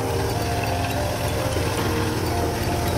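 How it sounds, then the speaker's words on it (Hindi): A 70 HP tractor engine drives a large, heavy thresher, producing a steady, loud, dense mechanical drone with constant low rumble and broadband clatter throughout, no pauses and no talk. "एक और थ्रेसर के बारे में दिखाते हैं, 70 HP ट्रैक्टर"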